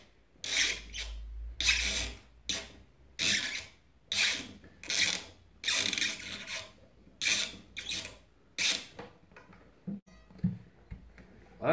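Rhythmic creaking wooden rasps from a wooden tuning peg turned while fitting a string, about a dozen separate turns in steady succession, close by and fairly quiet, with no talking.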